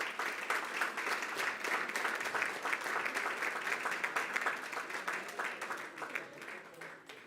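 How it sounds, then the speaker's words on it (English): Steady applause from an audience at a high school board meeting, honoring the Weslaco High School golf athletes, with dense clapping sustained throughout and slowly tapering toward the end. "How about a round of applause for some of our golf athletes who are here now?"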